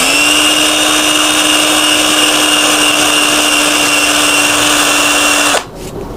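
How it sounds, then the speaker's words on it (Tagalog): A mini drill whines steadily as sandpaper smooths the shaft of an electric fan, a loud constant motor tone with a bright harmonic buzz that cuts off abruptly near the end. "At padaanan din ng liha gamit ang mini drill."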